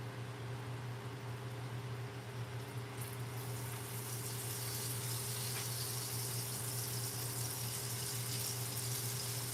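Steady, even searing hiss from a hot pan with lemon and parsley added, close and continuous for the whole stretch over a low background hum, with no one talking.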